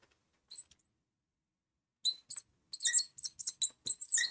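Shrill squeaks of a marker writing on a classroom board, one brief stroke then a quick rapid series of short squeaking strokes, close by with no talking.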